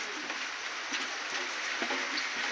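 Soft steady patter of rain falling on a surface, with scattered light drops, fairly quiet and continuous throughout.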